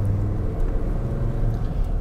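A single car passes on an empty rural road, a steady low rumble of tyres and engine that swells slightly and fades, heard alone with no voices.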